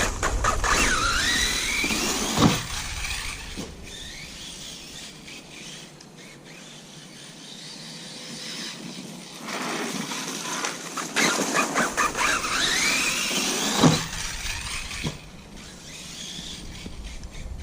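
Arrma Kraton 6S RC car tearing around a back yard, a high electric motor whine that surges and fades as it passes near and far, with tyre scuffs and brief quiet lulls between runs.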